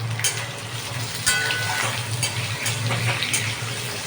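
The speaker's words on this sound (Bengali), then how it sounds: "আলুগুলো আমি ভালো করে ভেজে নিই" Salted potatoes fry in a pan with a loud, steady sizzle, and a utensil stirs and scrapes now and then, close up and without talk.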